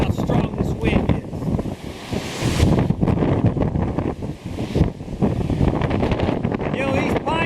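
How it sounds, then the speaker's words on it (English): Very strong wind gusting across a Lake Superior beach at Twelve Mile Beach, Pictured Rocks, with blowing sand and surf: a loud, continuous roar of buffeting wind noise on the microphone and crashing waves, with a person talking at times. "this is the strongest I've ever felt this wind"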